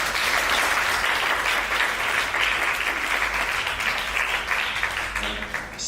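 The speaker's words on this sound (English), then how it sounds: "Let's have a round of applause for Viv Albertine" An audience applauds Viv Albertine of The Slits at a talk, steady dense clapping from a large crowd that carries on throughout and tapers slightly at the end.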